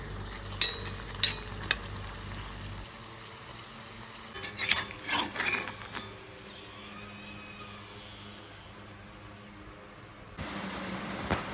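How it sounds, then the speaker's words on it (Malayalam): Pork-filled ada frying in a pan, a soft steady sizzle running under the whole stretch with a few scraping clinks early on and a brief clatter partway through. "ഞാൻ ബാക്കിയുള്ളതെല്ലാം ഒന്ന് ഫ്രൈ ചെയ്തെടുക്കുകയാണ്"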